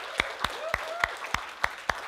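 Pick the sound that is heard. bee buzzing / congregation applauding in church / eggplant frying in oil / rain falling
congregation applauding in church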